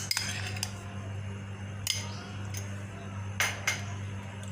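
Sharp clinks of cutlery and dishware as dressing is poured into a bowl of chicken salad with steamed corn, a few scattered taps against a steady low hum.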